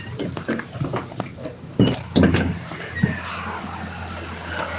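A dog whimpers and pants close by in a trailer, with a few sharp knocks and rustles mixed in at uneven intervals.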